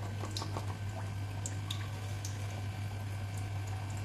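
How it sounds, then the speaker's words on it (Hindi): Potatoes dipped in gram-flour batter seasoned with chaat masala deep-fry in oil with soft, bubbling crackles and small pops over a low steady hum. "देखिए ये बड़े अच्छे से फ्राई होना शुरू हो गए"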